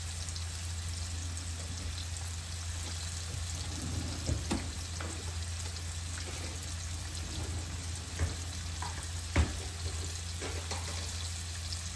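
Fluke fillets fry in hot oil with a steady low sizzle and crackle, and a few louder pops and spits stand out now and then, with no talk.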